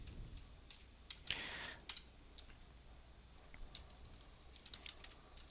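Someone types on a computer keyboard in a quiet room, a few soft, scattered key clicks with a brief quicker burst, faint and intermittent throughout.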